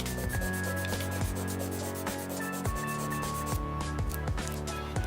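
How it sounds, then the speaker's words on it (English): An emery board files an acrylic nail at an angle in quick repeated back-and-forth rasping strokes, close and fairly quiet with a steady rhythm, and no talking. "we're going to hold our file at a 45-degree angle to the nail, and we're going to start filing in."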